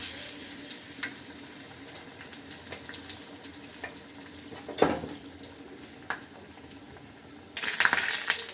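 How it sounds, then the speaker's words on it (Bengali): Bengali home frying in hot oil: a faint, steady hiss sits under scattered clinks and light taps of utensils at close range, with a louder burst of sizzle near the end. "এবার এটা আমি এই যে তেলের মধ্যে ছেড়ে দিলাম।"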